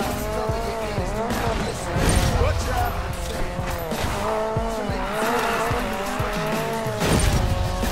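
Tires squeal continuously as a car drifts through a construction site in the racing game Need for Speed Payback, engine revving loudly with repeated skidding sweeps, while someone talks over the action.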